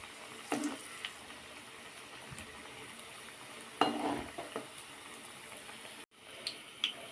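Puffed rice snacks frying in hot oil give a soft, steady sizzle with occasional stirring clatters and brief louder bursts, near and moderately quiet, with no talk.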